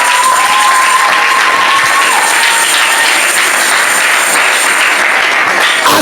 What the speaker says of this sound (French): Est-ce que quelqu'un peut acclamer très fort pour le Seigneur?